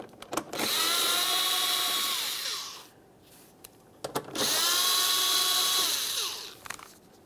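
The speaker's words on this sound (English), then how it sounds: "you're going to use a 10 millimeter to remove the mounting bolts." Power ratchet or drill-driven 10 mm socket spinning out license plate mounting bolts on a 2011-2021 Jeep Grand Cherokee, two sustained whirring runs of about two and a half seconds each, close and loud, separated by a short quiet pause.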